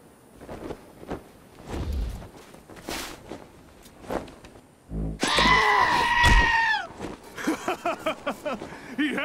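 A goat in Wasteland 2 lets out strained, scream-like bleats after scattered thumps and footfalls, the loud wavering cries taking over the second half along with a series of short bursts.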